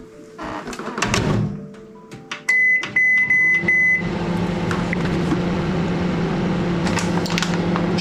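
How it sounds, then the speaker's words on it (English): Clattering and a door thunk, then a run of electronic beeps, followed by a steady low hum of a microwave oven heating tomato soup. "Let's see what this comes out like after 2 minutes in the microwave."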